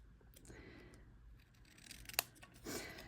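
Snips cut through material in a quiet room, one sharp crisp snip standing out, then a softer, broader cutting crunch shortly after.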